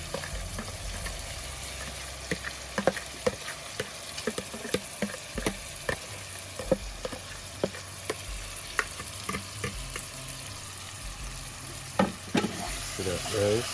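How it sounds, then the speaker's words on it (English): Salt mackerel frying in a pan for Jamaican ackee and salt mackerel: a steady, close sizzle runs throughout, broken by scattered sharp crackles and taps as the fish is stirred. "Just put the salt mackerel and you want to fry up."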